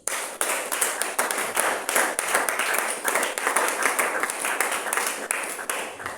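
Congregation clapping loudly and steadily at a French-language church prayer and fasting service, dense overlapping handclaps continuing throughout with no break.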